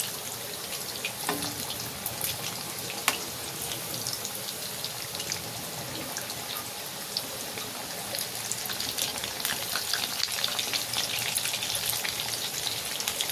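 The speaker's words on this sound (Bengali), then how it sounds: "এরকমভাবে মাছগুলো এক পিঠ ভাজা হয়ে গেলে আস্তে আস্তে উল্টে দিতে হবে" Lotte fish chops fry in a pan with a steady, crackling sizzle, oil spitting in fine continuous pops throughout without any talking.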